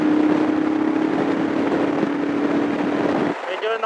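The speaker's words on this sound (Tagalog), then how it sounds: "Malakas yung hangin, siyempre may mga kotse." Strong wind buffeting a microphone while riding a motorcycle on an expressway, with a constant roar of rushing air and engine drone mixed with passing car traffic, easing near the end.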